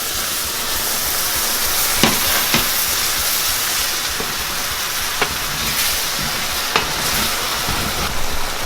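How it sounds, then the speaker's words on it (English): Veggie broth hisses in a hot skillet, a steady loud sizzle throughout with occasional sharp clicks of a utensil scraping and stirring the pan. "And now we'll add 1 cup of veggie broth."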